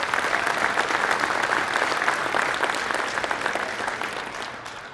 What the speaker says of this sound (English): So give them a round of applause, guys.